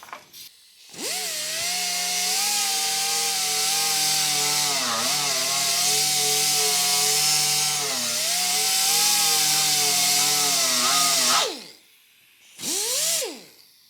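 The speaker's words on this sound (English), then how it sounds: "I can still afford to grind a little bit right here and just kind of smooth out this little" A grinder works a welded metal repair on a Porsche 356 part, giving a steady, close whine with slight pitch wobbles that holds for about ten seconds, stops, then returns in one brief burst.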